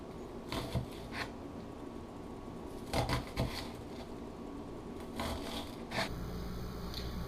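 A knife slices through an onion on a cutting board. It gives a handful of crisp, close, scraping cuts at irregular intervals over a low room hum.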